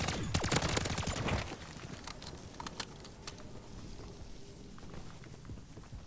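Rapid gunfire in MW3 Zombies crackles in a fast, loud burst of dense shots over the first second and a half, then fades to scattered faint pops and a low background hum, without speech.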